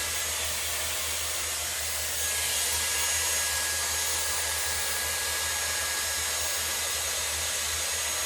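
Dyson Airwrap hair styler running with its brush attachment, a steady loud high-pitched airflow whoosh that holds constant throughout, close by with no talking.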